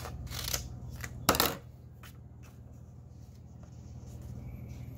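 Scissors snip through paper to cut a square, a few sharp crisp cuts, one loudest near the middle, then quiet handling rustle with no talk.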